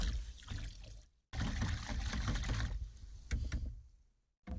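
Granular pouring sound in two bursts separated by brief silence, a soft rustling stream of salt falling into a container of warm water.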